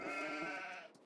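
Sheep in Farming Simulator 22 give one long, wavering bleat that rings clearly and fades out over about a second, with no voices over it.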